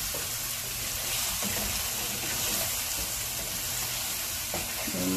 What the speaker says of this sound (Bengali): এখন আমি ডিমগুলো দিয়ে পানি দিয়ে দিব, ডিমগুলো কষিয়ে